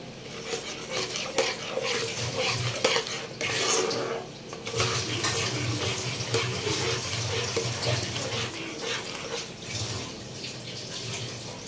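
A spice mixture is stirred in a cooking pot, a steady wet sloshing and scraping with bubbling underneath, close and continuous.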